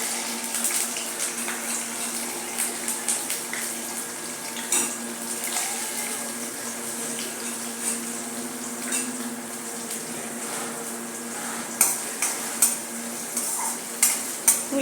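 Onions with green chilies and curry leaves fry in a pan until browned, a steady close hiss of oil with repeated soft scraping stirs of a spoon throughout.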